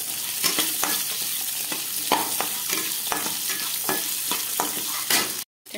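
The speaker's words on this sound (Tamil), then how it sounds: "இப்போ கறிவேப்பிலை செஞ்சோம்" Curry leaves frying in a pan for a village-style mint chutney, a continuous crackling sizzle with regular stirring scrapes of a spoon, near and steady, ending in a sudden cutoff.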